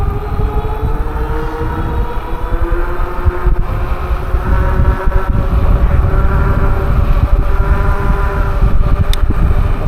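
A Natko F4 electric cargo bike climbing a hill, with a steady, fairly loud motor whine that rises gently in pitch over a constant rumble of wind and road noise throughout.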